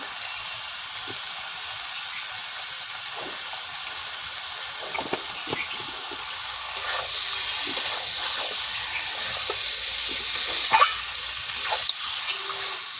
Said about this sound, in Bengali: ভালো করে নাড়িয়ে নিয়েছি